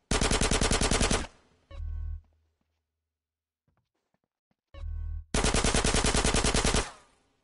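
Two long bursts of rapid automatic gunfire in GTA San Andreas during a casino heist, loud and close, with a short low thump after the first burst and before the second and near silence between them.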